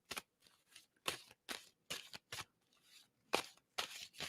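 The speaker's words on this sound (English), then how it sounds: "tell me when I should stop shuffling" Playing cards being shuffled in repeated short riffling bursts, about ten quick crackling sweeps spaced by brief pauses, close and fairly quiet with no talk.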